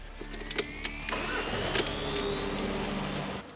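A car engine starts during a check of battery charging after a repair, with a cranking whine rising into a steady idle hum that fades out near the end.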